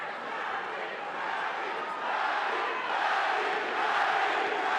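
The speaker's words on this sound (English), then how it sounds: "Crowd chanting, Manny, Manny," A boxing arena crowd at a Manny Pacquiao fight, with a dense, sustained roar of massed voices chanting his name, steady and loud with no separate speech above it.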